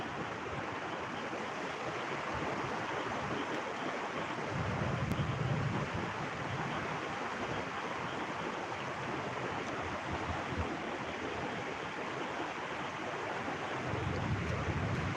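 Floodwater pours over a road during monsoon rain, a steady, dense rushing wash that holds loud from start to finish, with the low roar swelling twice and no voices.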